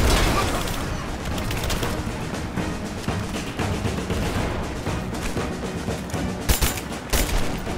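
Sustained covering gunfire during a firefight in the video game Rise of the Tomb Raider, dense overlapping rattling shots with a few louder bursts near the end, with faint voices mixed under the din.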